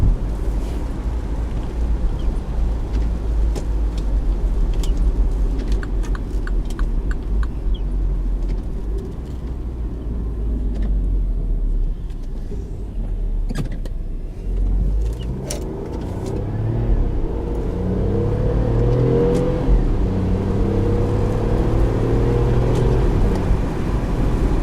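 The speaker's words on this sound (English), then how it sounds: "Man, this car can corner." A 2016 Mini Cooper 1.5 drives hard through corners, its engine droning loudly and steadily from inside the cabin, with revs climbing and falling toward the end.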